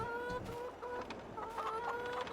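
Chickens cluck in a hen house in a survival video game, with several short rhythmic clucks and calls overlapping at a moderate distance, with no voices.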